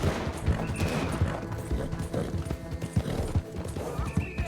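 Rapid hoofbeats of a galloping horse in Red Dead Redemption 2, a quick rhythmic clatter, with a whinny and bursts of gunfire in the background.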